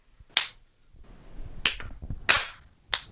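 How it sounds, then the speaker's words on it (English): Four slow, widely spaced single hand claps, crisp and fairly close, with a faint low rumble between them, applause of the sluggish, half-hearted 'struggle clap' kind. "Yeah, struggle claps."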